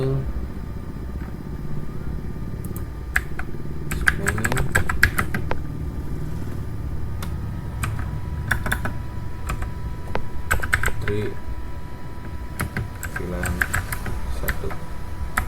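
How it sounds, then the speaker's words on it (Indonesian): Commands typed on a computer keyboard while configuring spanning tree protocol on a network switch, irregular bursts of quick clicky keystrokes over a steady low hum, with someone talking throughout. "switch 1, kita ketik di sini"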